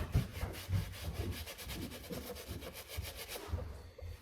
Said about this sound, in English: make sure to keep scrubbing it.